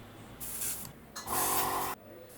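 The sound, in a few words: airbrush blowing air back into the cup to clean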